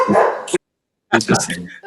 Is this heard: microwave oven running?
no